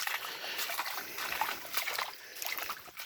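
Water trickles steadily through a small creek beside a barn, a constant bright babbling close by with soft splashes and no voices.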